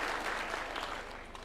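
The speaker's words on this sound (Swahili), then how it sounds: "Tuwapigie makofi." Continuous, even clapping from an audience at a UDA National Governing Council meeting, welcoming MCAs, fairly distant and steady, easing slightly toward the end.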